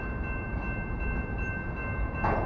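A stationary train waits nearby, its idling rumble steady and fairly loud, with a steady hum from the engine and a short burst of brighter noise near the end.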